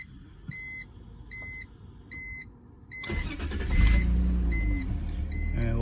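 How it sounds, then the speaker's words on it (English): A car cabin chime beeps steadily, then the engine cranks and fires up into a loud, rumbling idle close by, shortly after a brake light bulb was replaced. "let's turn on the car"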